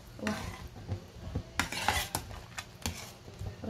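A utensil stirs food in a pan during Taiwanese-style home cooking. Quiet, irregular scrapes and clinks of metal against cookware come over a faint sizzle, and no one talks.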